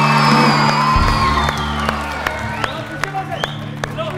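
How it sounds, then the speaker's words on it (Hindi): Applause and cheering at a televised game show grand finale greet the winning team, while music and a sustained tone ring over the crowd with scattered sharp claps and whoops. "बहुत सारी तालियां होनी चाहिए यूट्यूबर्स के लिए"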